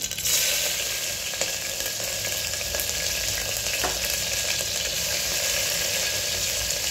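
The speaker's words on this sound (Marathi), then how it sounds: "आता ह्यामध्ये घालायचं आपण लसूण आणि मिरची." Garlic and chili frying in oil in a well-heated pressure cooker, giving a steady, dense, close sizzle that hisses continuously with faint stirring clinks.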